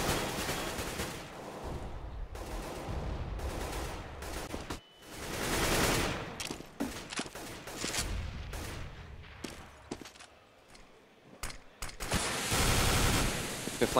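Rapid gunfire from the video game CS:GO in a professional 2014 tournament match, bursts of automatic shots and single cracks under an excited caster's commentary.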